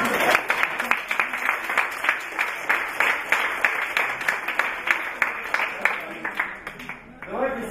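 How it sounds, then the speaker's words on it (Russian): Audience at a tango milonga in a club clapping steadily and loudly, a dense sustained round of applause that fades out near the end. "Давайте похлопаем."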